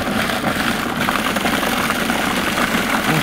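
Commercial Robot Coupe food processor whirring, a dense, loud, steady motor drone with rattling texture, continuous and close, with no speech.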